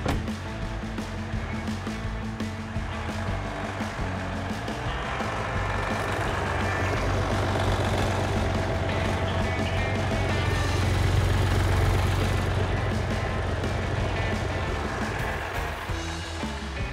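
A 2014 Jeep Grand Cherokee with the 3.0 EcoDiesel engine, just back from an oil and filter change, runs at a steady idle, a continuous low rumbling drone that swells slightly midway, nearby and without speech.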